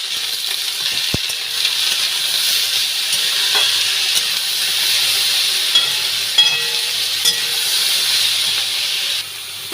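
Cauliflower curry with a little ground cumin frying in a pan, a loud continuous sizzle and hiss with occasional scraping strokes and light clinks as the spoon stirs it.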